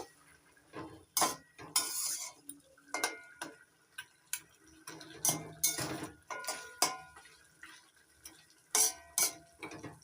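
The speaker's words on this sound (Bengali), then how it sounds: "এবার দিয়ে দিচ্ছি ভেজে নেওয়া কাতলা মাছের মাথার টুকুরি নাড়াচাড়া করে মিশিয়ে নেব" Fried katla fish head pieces are stirred in a pan with a metal spatula, giving irregular scraping and clinking bursts with short quiet gaps between, close and fairly soft, with no talking.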